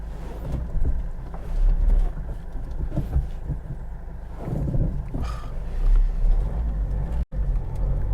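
Land Rover Freelander driving, a steady low engine and road rumble heard from inside the cabin with wind buffeting and occasional knocks and rattles.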